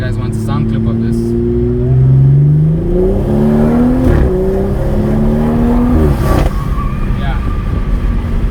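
BMW M240i engine accelerates hard through rising revs with gear-change dips, heard from inside the car over road noise, with a person talking.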